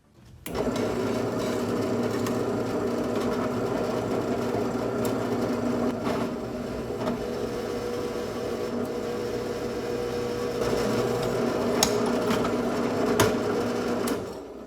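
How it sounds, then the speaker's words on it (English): A drill press motor whirs steadily for several seconds as the bit grinds holes through metal brackets, with a few light clanks. "I'm going to go ahead and hop on the drill press, drill out these holes"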